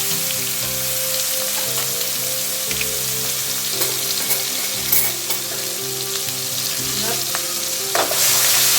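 Asafoetida, curry leaves, ginger and green chillies fry in hot oil, a loud, close, continuous sizzle with crackling pops and occasional spoon scrapes, no voices.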